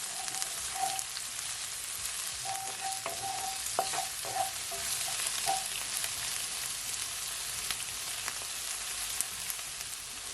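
Vegetable stir fry with ginger sizzles and crackles steadily in a hot pan, a dense continuous fry with occasional sharper pops and stirring clatter throughout, close and fairly quiet, no talk.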